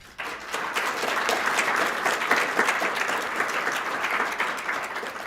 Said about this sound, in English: I have a habit of clapping for myself